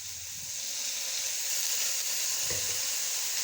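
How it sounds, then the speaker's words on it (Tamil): Egg and capsicum poriyal sizzles steadily in a hot pan on low heat, a loud, even frying hiss with faint scraping thumps as it is stirred, close up and with no talking. "தீயை மெதுவாக வச்சு நல்லா கிளறுங்க"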